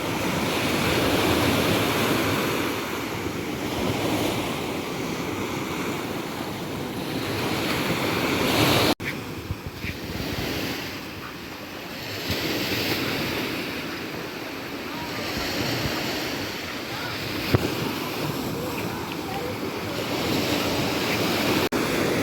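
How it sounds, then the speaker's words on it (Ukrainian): Continuous roar of Black Sea waves washing onto the shore at Odesa, with steady wind buffeting the microphone throughout. "Клас, хвилі, як на океані."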